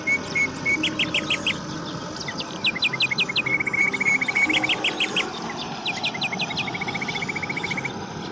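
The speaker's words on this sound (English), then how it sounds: "listen the voice of birds" Birds chirp from a tree in the morning: bright, rapid trilling bursts repeating in short phrases, fairly close and clear over a soft steady background hum, with no talking.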